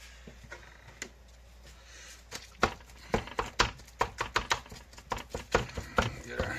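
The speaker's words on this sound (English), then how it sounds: "Get our hamburger all chopped up." A utensil chops and breaks up hamburger meat in a pan, sharp taps that start sparse and build into a quick, irregular series of close, loud knocks against the pan.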